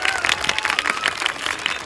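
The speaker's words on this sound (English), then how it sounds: "Give him a big giant round of applause." A crowd applauds a falcon at a Renaissance festival bird show, dense steady clapping filling the short stretch at moderate loudness, with some voices mixed in.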